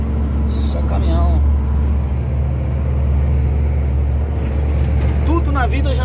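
Trucks pass along a road carrying grain, salt, soya, corn and fertilizer, giving a steady loud rumble of heavy engines and tyres with someone talking over it.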